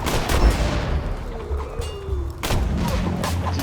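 Rifle gunfire in the video game Borderlands 2: a rapid burst of loud, close gunshots at the start, then a lull, and another burst of shots near the end.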